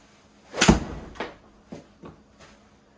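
A golf club strikes a ball during on-course target practice, one sharp crisp impact followed by a few fainter knocks, fairly close with no talking.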